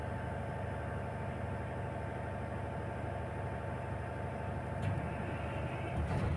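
A generator runs with a steady, dense engine drone after its fault has been cleared, constant and fairly close with no pauses, and a faint click near the end.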